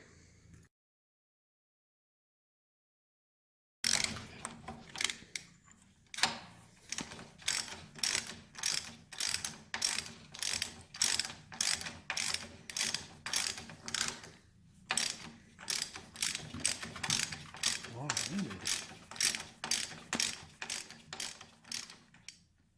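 A ratchet wrench working on the front end of a 1971 Triumph Tiger 650 being dismantled, loud rapid clicking strokes in steady repeated bursts after a short silent opening, with a brief pause midway.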